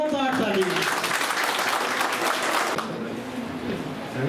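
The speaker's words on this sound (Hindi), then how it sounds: "तालियां बजती रहनी चाहिए।" A crowd applauds steadily and loudly at a Rajput community event in Chamba celebrating Maharana Pratap's birth anniversary, the clapping thinning slightly toward the end.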